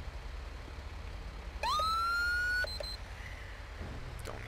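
A police car siren in GTA V sounds as a single rising electronic whoop that holds steady for about a second before cutting off, fairly loud over a low background rumble of engine noise.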